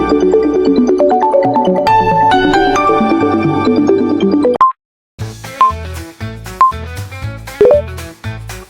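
An Honor smartphone ringtone plays loud and alone, a bright melodic tune of bell-like tones that stops, then resumes with a short repeating phrase of plucked notes.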